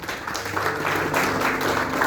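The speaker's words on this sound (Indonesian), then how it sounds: "Tepuk tangan segini, ayo." A church congregation at an anniversary worship service in a hotel claps together, a dense, steady wash of hand claps that holds at an even level throughout.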